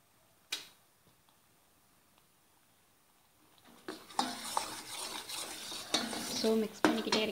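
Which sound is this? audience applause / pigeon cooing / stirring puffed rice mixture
stirring puffed rice mixture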